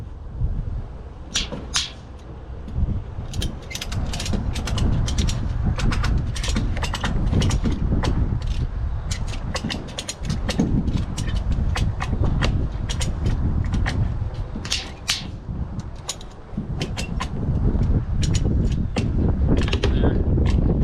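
Ratchet strap or come-along cranked repeatedly to draw a timber frame joint together during a house build, giving a long series of sharp clicking bursts over low rumbling background noise, with occasional voices nearby.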